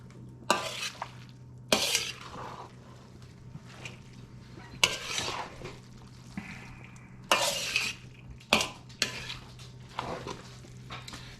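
Rice and beans being stirred in a huge wok, with intermittent scraping and clattering strokes of a utensil against metal over a low steady hum, close by and moderately loud.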